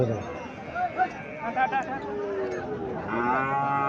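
A Sahiwal heifer calf moos several times at a cattle market, with drawn-out nearby calls rising over crowd chatter and people talking throughout.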